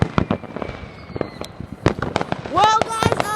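Fireworks burst in a rapid string of sharp cracks and pops, some with crackling trails. Excited voices are heard between the explosions.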